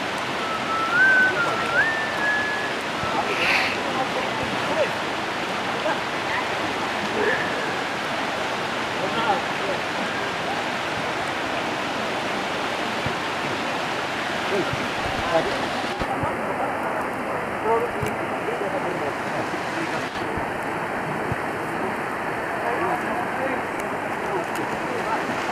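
Floodwater rushing during a typhoon in the Philippines, a steady loud broadband roar of moving water with faint higher tones and occasional background noises.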